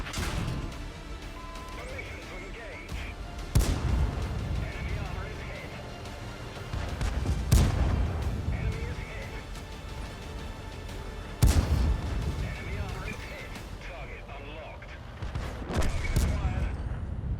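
Tank cannon fire in World of Tanks from the A-46, sharp heavy blasts spaced several seconds apart over ongoing battle rumble, with someone talking through much of it.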